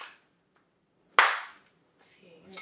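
A single loud, sharp cupped hand clap with a trapped pocket of air rings out close by after a near-silent start, with a fainter follow-up clap a moment later.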